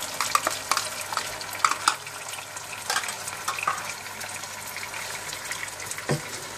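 Chicken being stirred in a pot with yogurt and ground ginger-garlic paste, wet scraping and squelching strokes over a soft sizzle, repeated irregularly, close and moderately loud.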